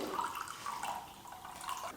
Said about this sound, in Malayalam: അപ്പോൾ വേണ്ട ഡ്രിങ്ക് ഇതിലേക്ക് ഗ്ലാസ്സിൽ ഒഴിച്ചോളൂ.